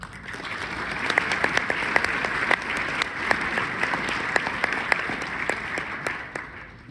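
Audience applause at a jazz education award ceremony: steady, dense clapping from a full room, sustained for about seven seconds with a few sharper individual claps standing out near the front.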